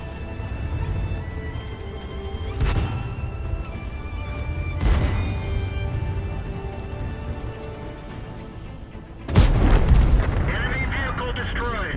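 Tank cannon shots in World of Tanks, a Tier 8 heavy tank battle: three heavy booming blasts at steady intervals over a constant engine drone, the last one loudest and followed by a sharp crackling burst.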